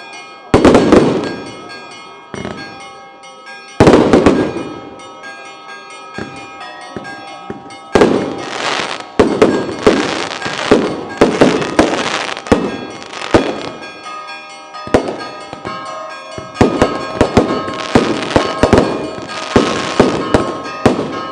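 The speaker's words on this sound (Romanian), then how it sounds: "Artificiile, bă, îmi plac." Fireworks and firecrackers bursting at a Greek Easter celebration in Paralia Katerini, loud sharp cracks and booms in irregular clusters with ringing church bells, and voices in the background.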